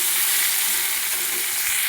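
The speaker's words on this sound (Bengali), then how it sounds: "উচ্ছের সঙ্গে সমস্ত সবজি ভালো করে ভেজে নিয়েছি।" Bitter gourd and mixed vegetables frying in a pan with salt and turmeric, a steady, bright, hissing sizzle that stays loud and unbroken throughout, close and without voices.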